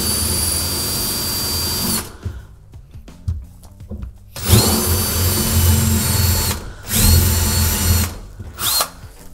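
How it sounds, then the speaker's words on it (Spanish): A power drill boring holes for wall anchors to install a pedal faucet, in short bursts, its motor whining at high pitch then stopping, with quiet handling noises in the pauses between runs. "Con ayuda de nuestro taladro vamos a hacer los barrenos."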